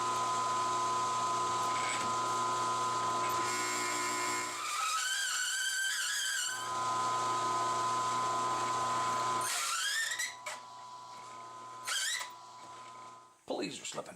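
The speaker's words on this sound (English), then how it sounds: "Hole saws are usually nasty and extremely loud." Hole saw cutting metal on a drill press for a disc brake bracket, a steady loud droning whine with squealing, screeching bursts as the teeth bite, ending in choppy starts and stops, with talk mixed in.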